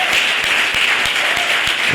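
A church congregation at an Easter Sunday service closing a 21-day fast claps in a steady, even rhythm of rapid applause that holds for the whole moment.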